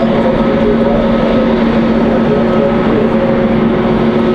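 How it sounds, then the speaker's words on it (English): A Boeing 737-800 airliner ready to depart Raleigh-Durham airport sends out a loud, steady jet engine roar with a constant whine running through it, unbroken for the whole stretch. "That 737-800 ready for departure as well."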